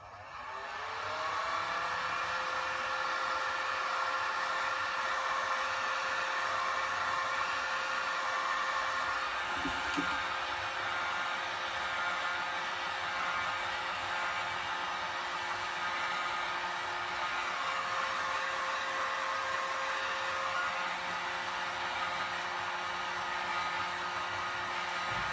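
Hair dryer drying a craft coffee capsule holder, a loud continuous whirring blow that runs steadily for the whole stretch with a constant tone, close to the microphone and no talking.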